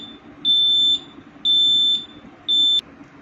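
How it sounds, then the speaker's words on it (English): INFUMAX infusion pump sounding its target-reached alarm: three loud, steady high electronic beeps, each about half a second long, evenly spaced over a low background hum. "Now it is going to end, so it reaches target reached alarm."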